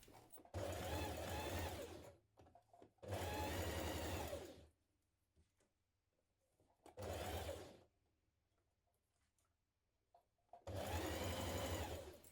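Sewing machine setting a blouse sleeve in place, running in four separate bursts of steady whirring stitching with quiet gaps between each run.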